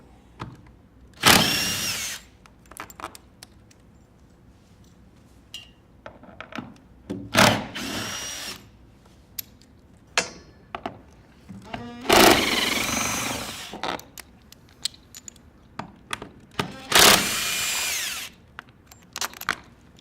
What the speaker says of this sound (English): we're going to remove these 2 bolts on each side.